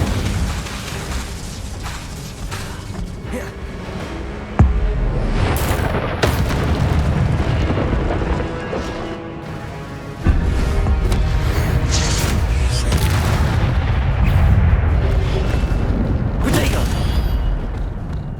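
Repeated Incendio fire spells cast in Hogwarts Legacy, loud rumbling bursts of flame layered over dense game battle noise, with a brief voice at times and sudden jumps in intensity.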